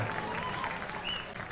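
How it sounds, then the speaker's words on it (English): Audience applause for a dancer at a live band performance, a soft, steady spatter of clapping heard from a distance, fairly faint and even. "Applause for our sure-footed dancer here, ladies and gentlemen."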